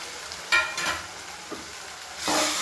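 Vangi bath with MTR powder is stirred and fried in oil in a pan, soft sizzling under several louder scraping spoon strokes, no talking.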